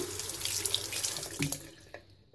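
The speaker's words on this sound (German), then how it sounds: "Dann muss man das Ganze einfach nur unter einem Wasserhahn abspülen" A kitchen tap runs steadily over a smartphone holder's sticky adhesive pad, a close, continuous splashing rinse that tapers off near the end.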